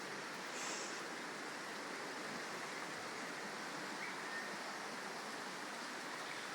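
Deep Creek at Carisbrook runs in flood and is still rising, a broad, steady rush of fast water that holds at a constant roar with no talk.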